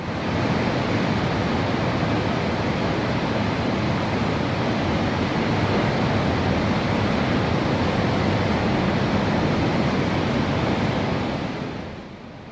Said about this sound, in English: And I even managed to get a small clip of the waves for you